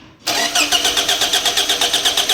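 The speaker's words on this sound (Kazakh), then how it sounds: "Сигналын тексеру үшін айландырамыз моторды." A car engine is cranked by its starter to check the ignition spark, a loud close rhythmic churning with regular pulses that starts suddenly after a brief quiet moment and continues steadily without catching.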